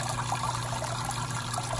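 Wort draining steadily from a mash tun toward a boil kettle during home brewing, a continuous close trickle and pour of liquid with no breaks and no talking.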